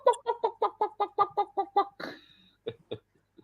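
A person imitates a chicken with their voice: about ten rapid, evenly spaced clucks, close and loud, followed by a drawn-out squawk and a few trailing clucks, with no other talk.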